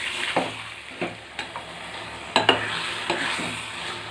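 Ground onion, tomato and coconut paste is stirred into a Chettinad-style chicken gravy, with a soft ongoing sizzle and a few distinct scraping strokes and taps of the spoon against the pan.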